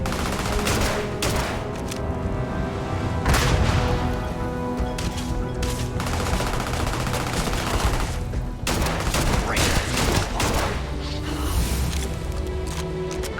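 Dense, loud gunfire rattles through a firefight in the video game Starfield, with rapid automatic bursts and sharp impacts running almost continuously and barely pausing.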